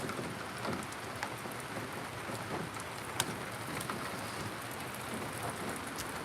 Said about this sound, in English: I just will wait till the rain stops a bit